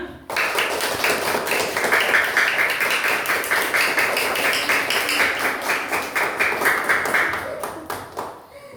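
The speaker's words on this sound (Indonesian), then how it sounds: "Tepuk tangan semuanya" A room of children claps together in a strong, rhythmic unison beat, loud and close, sustained for several seconds before breaking into a few scattered final claps.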